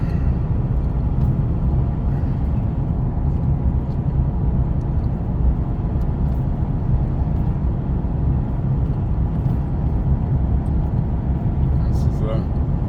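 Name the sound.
car driving on the road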